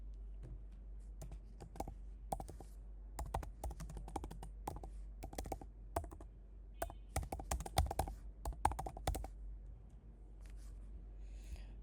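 Someone types on a computer keyboard while entering a BOM template name in ERP software, giving quick irregular bursts of close, light key clicks with short pauses between them.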